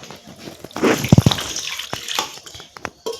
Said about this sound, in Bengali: এখন আমি এই ডোয়ের মধ্যে দিয়ে দেব জল